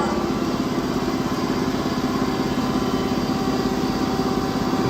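The wheel of a Cincinnati R-55 precision universal cylindrical grinder spins up and runs with a steady, loud motor hum and a faint high whine, an even machine drone throughout with no speech.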